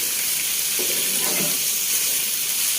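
Liver frying with turmeric in a pan for bhuna: a steady, bright sizzle runs throughout, with a short soft scraping stir near the middle and no speech.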